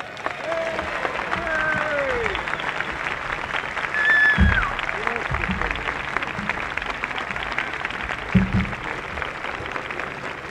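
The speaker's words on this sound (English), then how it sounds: "it must have been good, or you wouldn't all be clapping" An outdoor rally audience at UCLA applauds Congressman George Brown with sustained clapping and cheering, a steady wash of many hands lasting the whole stretch, with faint voices and shouts mixed in.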